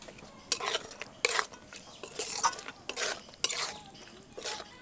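Red lentils and soaked chickpeas with spices are stirred in a pan, making a series of scraping, clacking strokes of a spoon against the metal in an uneven rhythm, close and fairly quiet.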